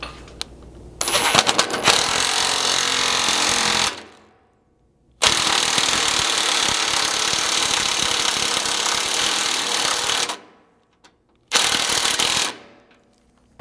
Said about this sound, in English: using a 3/4 socket, you can install these self-tapping 1/2-inch bolts